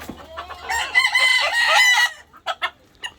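A rooster crows loudly nearby, a drawn-out strained call, followed by a few short clucks from chickens.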